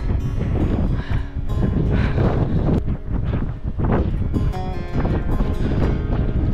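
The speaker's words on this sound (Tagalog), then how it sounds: "Sobrang lakas ng hangin." Strong mountain wind on a cloudy high point in Tinoc, Benguet buffets the microphone in heavy, rumbling gusts that rise and fall continuously, loud and close, with no speech.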